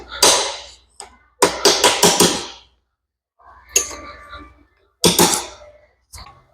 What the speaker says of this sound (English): Now I gotta hammer the gland backwards. Got my aluminum punch.